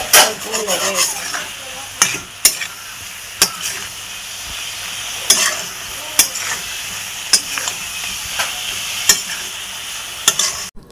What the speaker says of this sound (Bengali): এখন নেড়ে চেড়ে নিচ্ছে